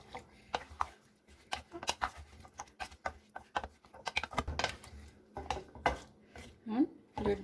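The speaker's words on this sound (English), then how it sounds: "Stirring it in." Dal ingredients stirred in a metal pot make irregular clinks and scrapes of a spoon, close and moderately loud, in uneven bursts.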